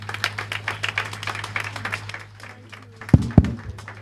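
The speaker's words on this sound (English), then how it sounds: "Let's do a very, very applauding round of applause for the great governor" Audience applause for a governor at an official event, dense rhythmic clapping from a nearby crowd that thins out, followed by two loud thuds near the end.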